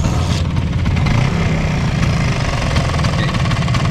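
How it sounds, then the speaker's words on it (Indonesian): A Vespa Sprint scooter engine with a faulty clutch housing runs steadily and loudly up close, a dense low rumble with rapid knocking clatter throughout, no voices. "Kebetulan Vespa sprint bagol saya ini rumah koplingnya agak bermasalah."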